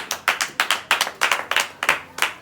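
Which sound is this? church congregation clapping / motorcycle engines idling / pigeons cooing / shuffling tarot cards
church congregation clapping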